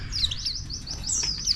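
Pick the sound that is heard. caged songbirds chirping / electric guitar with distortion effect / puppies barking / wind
caged songbirds chirping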